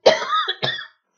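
A woman coughs twice in quick succession, close and loud, each cough short and rasping.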